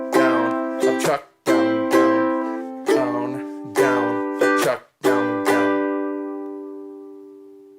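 Ukulele strummed in a repeating down-down-up pattern, each group closed by a sharp muted chuck, bright chords ringing clearly and alone before the last strum fades out.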